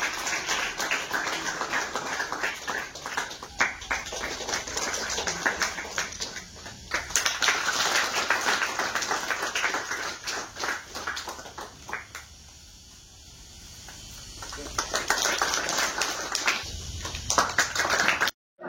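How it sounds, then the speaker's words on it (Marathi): Audience applause at an inauguration ceremony for an archery academy's yoga hall and gym, a dense wash of clapping that swells and fades, briefly quieting midway before rising again. "त्यांच्यासाठी टाळ्या वाजवा"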